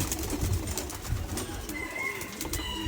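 Local Giribaz pigeons, a male and a female, coo softly in low, throaty bursts close by, with scattered rustling and light clicks around them.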